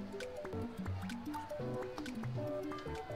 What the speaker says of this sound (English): It's like little bubbles are popping.